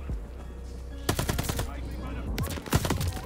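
Rapid bursts of automatic gunfire in a video game shooter lobby, loud and close, several volleys of machine-gun fire with single sharp shots between them.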